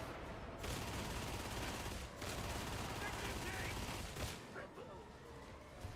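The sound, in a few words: sniper rifle gunshots in a video game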